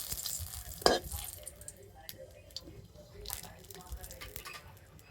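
Cardamom pods and bay leaf hit hot ghee in a pan, a soft sizzle with a sharp spatter at the start, followed by quiet frying crackles and light stirring scrapes.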